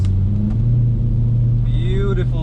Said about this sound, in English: beautiful sound made from the exhaust at the back and the engine noise